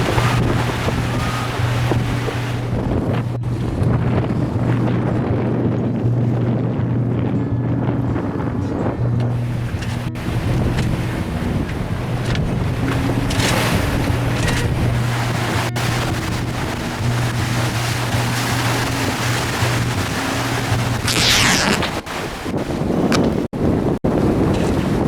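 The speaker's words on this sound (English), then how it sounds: "How much wind was that?" Strong squall wind roaring across a sailboat in the Caribbean, a loud, continuous buffeting rush with microphone wind noise, water and boat sounds beneath, lasting throughout with a brief lull near the end.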